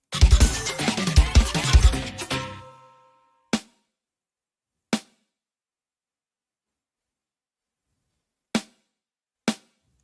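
A short, busy programmed bouyon drum pattern plays, then four isolated crashing splash cymbal hits ring out one by one over silence.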